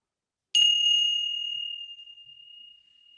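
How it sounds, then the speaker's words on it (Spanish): A meditation bell is struck once at the close of a mindfulness practice, a clear bright ring that sounds suddenly out of silence and then slowly fades over several seconds with no other sound. "vamos a ir volviendo de la práctica después del sonido de la campana."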